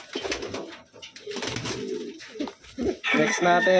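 Wantai pigeons coo and flutter close by, rustling wings mixed with low throaty calls, while someone talks over them.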